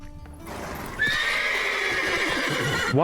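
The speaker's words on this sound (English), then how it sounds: "Come on, horses, sing for me." Several horses neigh and whinny in the Witcher 3 video game, one long loud call held up close, with a faint clip-clop of hooves underneath and another whinny starting at the end.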